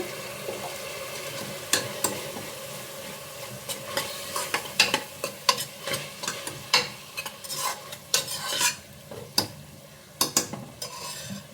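A spoon stirs and fries ground masala with fenugreek greens in a pan, irregular scraping and clinking strokes over a soft sizzle, close and fairly quiet, with no talking.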